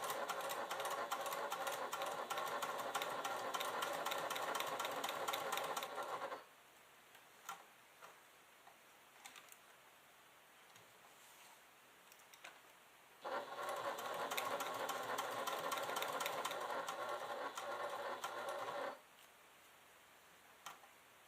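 A sewing machine stitches a fabric clutch with a back-stitched seam. It makes two loud runs of fast, even mechanical whirring, separated by a quiet pause with light ticks and clicks, and there is no talking.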